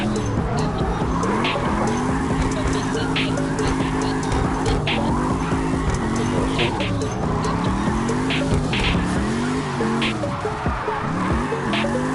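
A steady CarX racing-game car engine drones throughout, rising and falling in pitch, with occasional squeals and skidding tires layered over it.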